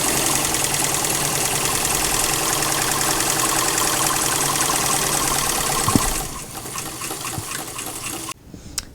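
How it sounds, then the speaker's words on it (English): A sewing machine stitches two halves of a baby hat together in a steady, continuous run for about six seconds, then stops and gives way to quieter handling noises. "I'm just going to go ahead, match it up on my machine, and stitch it up and sew that way."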